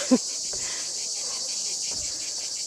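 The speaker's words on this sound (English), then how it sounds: "the cicadas are so loud. Sometimes they're hurting my ears." Loud, continuous cicada buzzing drones throughout, steady and high-pitched, in Greece's Peloponnese, with a faint brief thump near the start.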